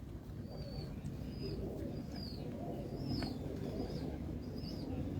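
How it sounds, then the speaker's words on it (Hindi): Pigeons coo softly in repeated short phrases while wings flap now and then, all fairly faint over a steady, dense background hum. "ये कबूतर है"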